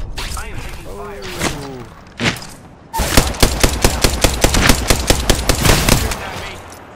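Gunfire in Apex Legends, first sporadic shots and then a fast, steady burst of automatic fire at close range, with voices talking over the shooting.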